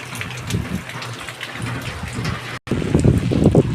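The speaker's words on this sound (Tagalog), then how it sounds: "Lakas ng ulan." Steady, dense rainfall with a broad hiss and low rumble, briefly cutting out, then returning louder with heavier drumming.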